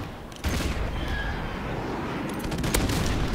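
Air strike explosions in Call of Duty Modern Warfare Remastered online play: a sudden heavy blast onset followed by sustained rumbling booms and crackling detonations, loud and continuous across the moment.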